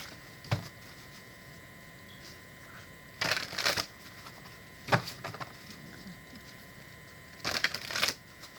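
Quiet riffle-shuffling of a card deck, several brisk bursts separated by pauses, with faint room noise between.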